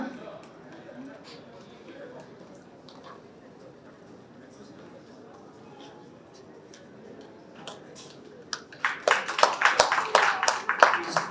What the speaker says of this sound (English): A big round of applause to Juhi.